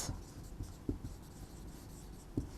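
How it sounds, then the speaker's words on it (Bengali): A pen or chalk writes out a plant name, Cycas pectinata, in short scratchy strokes with a few firmer taps, steady and close with no talking. "আমরা একটা গাছের নাম আমি একটু লিখছি"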